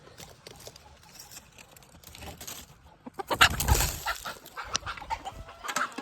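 Desi country hens on a Shahapur farm clucking softly, sparse quiet clucks at first, then a louder burst of clucking and rustling near the middle, continuing in intermittent bursts.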